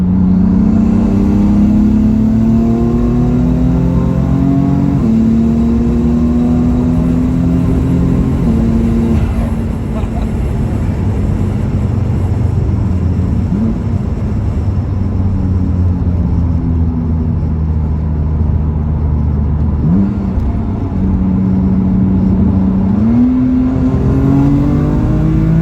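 A BMW F80 M3 fitted with Pure Stage 2 turbos accelerates hard from inside the car, the engine note climbing through long pulls with turbo whir and brief shifts between them, loud and close throughout.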